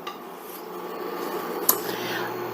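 Meatballs in brown gravy are stirred in a pot, giving soft scraping and clinking of a utensil against the pot over a low simmering bubble, with one sharper tap near the end.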